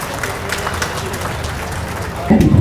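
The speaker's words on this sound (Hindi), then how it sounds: "महोदय तालियां जोरदार हो।" A crowd claps steadily at an outdoor police passing-out parade held in the rain, a dense, even patter of applause that swells louder near the end.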